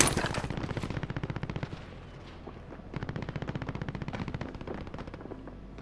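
Automatic gunfire rattles in rapid bursts during a video game firefight. The loud, dense volleys start and stop with brief gaps between them.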